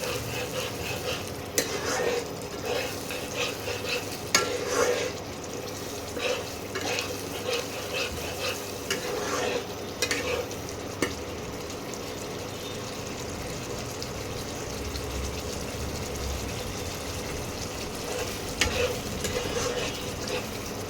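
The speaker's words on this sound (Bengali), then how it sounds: "এই মিক্সির জলটা এর মধ্যে আস্তে আস্তে দেবো আর কষাবো" Spice paste sautéing in a pan as water is slowly added, giving a soft continuous sizzle with scattered spoon scrapes and clinks against the metal, close up and without speech.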